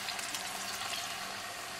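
A quarter cup of water is poured into a frying pan holding chicken breast, giving a soft, steady hiss and trickle that is fairly faint throughout, with no talking.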